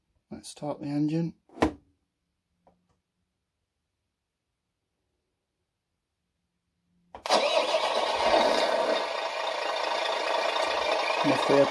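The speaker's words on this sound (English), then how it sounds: "let's start the engine" Entry-level GT Power sound and light system in an RC container truck starts up abruptly after a short pause, then holds a loud, steady simulated diesel rumble to the end; brief talk comes before it.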